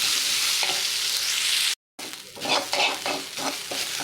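Onion sautéing on medium heat with grated coconut about to follow, a steady close sizzle and frying hiss with spoon stirring and scraping throughout, broken by a brief silent gap midway.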